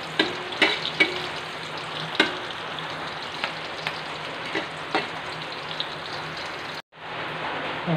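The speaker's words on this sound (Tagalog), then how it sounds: "igisa natin guys hanggang medyo mag-brown or golden brown." Beef mechado ingredients sauté in a hot pan until golden brown, a continuous close sizzle punctuated by spatula taps and scrapes. The sound cuts out briefly near the end, then resumes.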